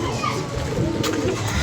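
Pigeons pecking at scattered grain give soft, close cooing that runs through a brief stretch against a busy outdoor background.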